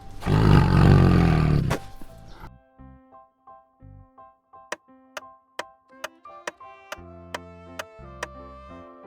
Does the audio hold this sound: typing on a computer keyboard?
no